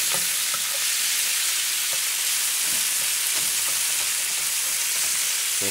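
Rice frying in a hot spiced pan for kimchi and bologna fried rice: a loud, steady, dense sizzle fills the whole stretch, with occasional soft stirring clicks and scrapes beneath it and no talking.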